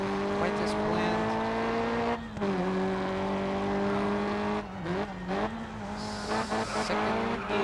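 A race car in GRID Autosport revs and accelerates in second gear out of a corner, its engine note loud and steady with gear-shift dips and brief tire squeal, heard alone without talk.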